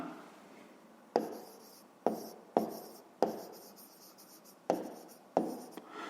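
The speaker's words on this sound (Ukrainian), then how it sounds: "зараз записуємо відповідь, пишемо відповідь" A pen writes an answer on paper in a run of close, quiet scratching strokes, each starting with a sharp tap and separated by brief pauses, heard alone without speech.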